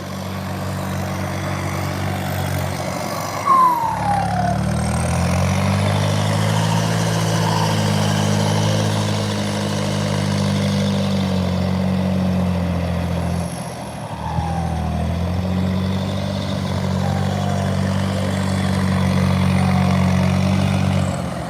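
A John Deere tractor engine drones steadily up close at a work site, its low throbbing hum dipping briefly twice as the revs shift, with faint chirps overhead.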